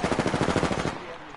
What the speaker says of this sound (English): I hear like a charge shot coming from somewhere.